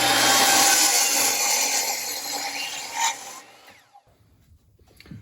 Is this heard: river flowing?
no